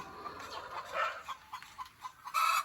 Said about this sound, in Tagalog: mga nangingitlog na sila